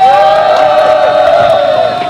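A large crowd at an outdoor protest rally against legalizing a teachers' union cheers and shouts continuously, loud and close, with mixed voices and whoops blending into a dense roar.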